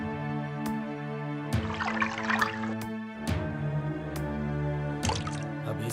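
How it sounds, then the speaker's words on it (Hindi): Cold water poured into a hot cooking pot gives bursts of splashing and gurgling, with sharp drips between them, over a steady tonal musical backing. "बहुत गर्म है, थोड़ा ठंडा पानी डाल देते हैं।"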